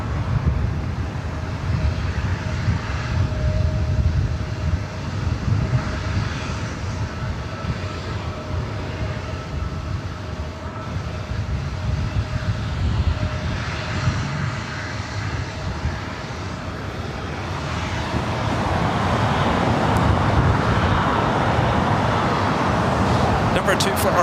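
A Boeing 787-10 Dreamliner bound for Amsterdam rolls down runway 24 right at LAX for takeoff, a distant jet rumble building steadily toward the end beneath ongoing talk and traffic noise.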